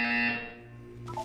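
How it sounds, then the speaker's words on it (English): A buzzer from the video game Portal sounds a harsh, sustained electronic drone that fades over about a second, with no talking. "You will hear a buzzer"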